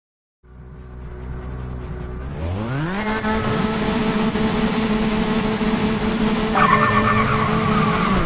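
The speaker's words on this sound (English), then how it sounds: "Watch wheel spin." Race car wheel spin in the TOCA Race Driver 3 video game: an engine revs up and climbs in pitch with loud tire squeal and skidding, holding steady and close throughout after a short silent start.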